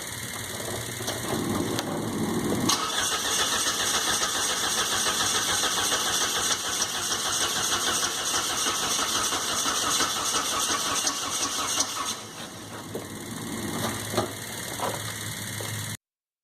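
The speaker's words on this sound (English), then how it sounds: "pull the fuel pump fuse, and turn it over and see how much cranking time I get with this setup" A car engine is cranked by a starter powered from a super capacitor bank, with the fuel pump fuse pulled so it never fires. It turns over steadily and continuously for about sixteen seconds, loud and close, dipping slightly near the end.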